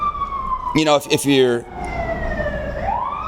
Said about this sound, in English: we got some sirens coming here